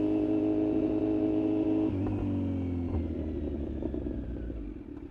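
A 2020 Kawasaki Z900 motorcycle engine pulling hard in first gear, a loud steady buzzing drone that shifts pitch partway through and then tapers slightly as it continues, with no voices.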